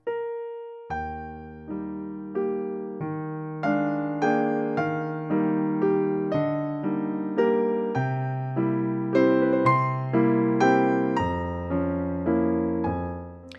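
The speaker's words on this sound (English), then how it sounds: "Grand Piano 1 is a European piano, and it sounds like this." A digital piano's European concert grand sample plays a slow, sustained chordal passage, notes ringing with a warm, rounded tone and steady decay, no voices.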